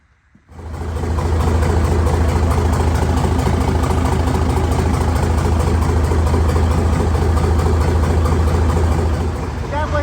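Engine of a hay squeeze running with its old air cleaner fitted, starting up and then settling into a loud, steady, throbbing idle that holds close and constant throughout.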